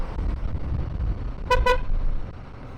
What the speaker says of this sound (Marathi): हॉर्न वाजवायला मजाच येते.